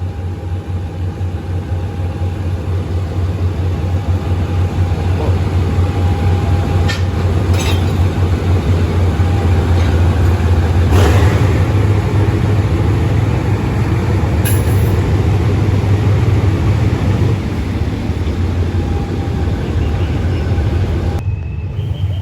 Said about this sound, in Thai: นี้เรามาดูการทำสเปลี่ยนตู้นอนเสริม ของ รถจักร EK 4033กันนะครับ